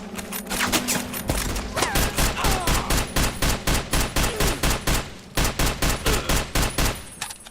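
Rapid automatic gunfire from a player's weapon in Fallout: New Vegas, a steady stream of loud, evenly spaced shots lasting several seconds with only a brief pause partway through.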